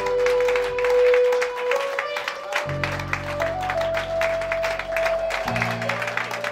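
Church congregation claps and cheers in worship, steady applause with sustained organ or keyboard chords underneath, moderately loud throughout.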